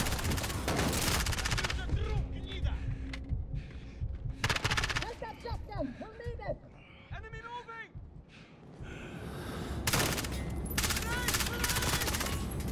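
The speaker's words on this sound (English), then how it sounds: "Oh my god, that's a shotgun." Shotgun and other weapons fire in the video game Call of Duty: Modern Warfare, loud repeated blasts and bursts throughout, with someone talking over the action.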